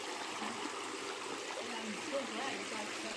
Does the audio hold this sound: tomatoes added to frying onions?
no